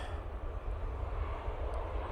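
Ryanair airliner arriving at Manchester Airport in low visibility, a steady broadband engine roar heard from a distance, continuous and moderately faint with no voices.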